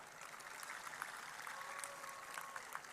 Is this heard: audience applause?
yes